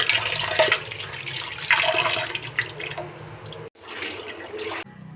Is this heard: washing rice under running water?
yes